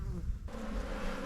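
Honey bees at an opened hive give a steady, close, busy buzz that fills the brief moment, with no talking.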